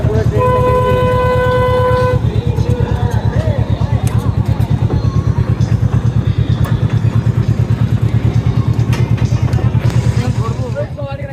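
An amusement park train ride clatters along in a steady, rapid rhythmic chug, fairly loud and continuous, with a horn-like tone at the start and people chatting faintly underneath.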